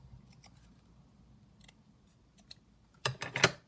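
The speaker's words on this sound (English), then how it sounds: "bit of lace. I'm going to glue that on. So I'll just cut that off here." Scissors cut a piece of lace for a junk journal craft, a few faint quiet snips, then two or three sharper, closer cuts at the end in an otherwise quiet room.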